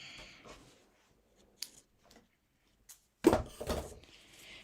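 Scissors cutting fabric for a Hawaiian quilt: a few brief snips and crisp rustles spaced across a quiet stretch, with one louder burst of cutting near the end, close and clear.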